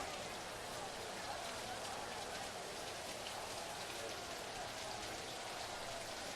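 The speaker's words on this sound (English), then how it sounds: "We continue a rainy night here in Sydney." Steady rain pours down on a football field in Sydney at night, a dense, even hiss of drops striking surfaces that holds constant throughout with no pauses.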